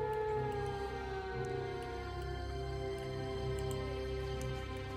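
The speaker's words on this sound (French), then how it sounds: "Je crois que j'ai entendu un loup." A wolf in the fantasy role-playing game Neverwinter Nights gives a faint, drawn-out howl under a low, steady ambient drone and music, with no voices.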